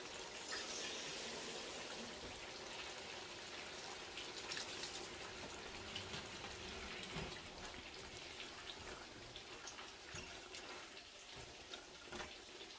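Half a cup of water poured into a cooking masala with soaked dried plums for spicy fish biryani, heard as a faint, steady splashing and bubbling wash with no talk.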